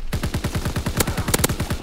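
Rapid gunfire in a video game: a steady automatic burst of roughly a dozen sharp shots, loud and close, running continuously with no talking.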